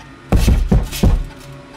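Three heavy, muffled thuds land in quick succession, like someone pounding on a door, in the horror game Killer Frequency, loud and close with nothing else happening around them.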